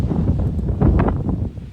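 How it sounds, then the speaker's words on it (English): Strong gusty wind roars across a hillside beside a highway during the Marshall wildfire in Colorado, loud buffeting rumble hitting the microphone in surging bursts. "listen to the wind blow"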